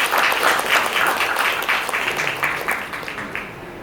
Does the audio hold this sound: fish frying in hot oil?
no